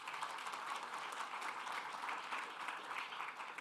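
Steady, full applause from a conference audience at a trade development forum session, evenly dense and moderately loud across the whole stretch with no voices over it.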